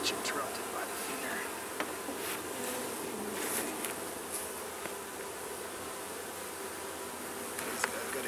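Honeybees buzz steadily and close during a first inspection of a newly installed hive, a dense continuous drone with individual bees zipping past now and then, and no talking over it.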